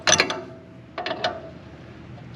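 A 1/2 inch ratchet wrench turning a bolt on a Ventrac MU720 mower deck drive shaft gives two short bursts of rapid, close ratcheting clicks, separated by a brief pause, with no voices.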